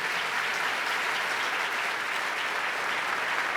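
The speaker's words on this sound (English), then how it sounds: "Let's give him a big round of applause and a moment of recognition" Sustained, even applause from a large crowd honoring a man at a governor's 2015 Opportunity Agenda event, loud and continuous with no speech over it.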